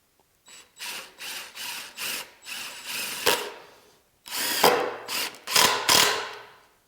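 Power drill driving 2.5-inch deck screws into wood framing for a closet build, a run of short whirring bursts with pauses between, then a gap before a few longer, louder bursts, close by and with no voices.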